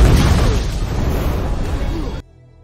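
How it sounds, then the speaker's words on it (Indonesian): A loud, roaring bomb explosion in a film fills the clip, a dense rumbling blast that sustains for about two seconds before cutting off abruptly. "Dengan cepat Detiv segera meledakkan bomnya"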